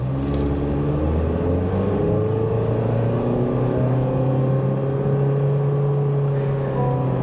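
A 2024 Honda HR-V LX accelerates hard from the cabin, its engine note rising steadily in pitch as a loud, continuous drone with road and wind noise, no talking throughout.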